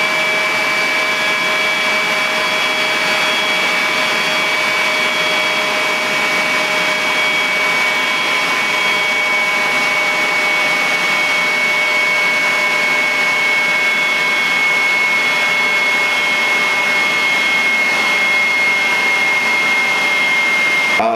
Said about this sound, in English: you'll start hearing the power lossage of this blower